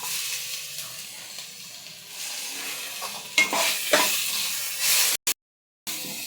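Garlic and a tomato fry in a pan with a steady close hiss of sizzling and stirring, swelling slightly in places before a brief gap near the end.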